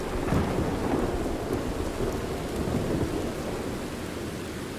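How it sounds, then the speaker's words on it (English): A thunderstorm in the video game Red Dead Redemption 2: steady heavy rain hisses on surfaces while deep thunder rumbles continuously close by, with no talking. "then it starts raining in the middle of recording. I'm like, well, okay, I guess it's raining now."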